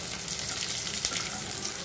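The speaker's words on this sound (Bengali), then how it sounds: "এরপর আমরা এর মধ্যে কুচিয়ে রাখা দুটো কাঁচা লঙ্কা দিয়ে আরেকটু নাড়াচাড়া করে নেব।" Onions and chopped green chillies fry with a dense, hissing sizzle, steady and close, with faint stirring scrapes beneath it.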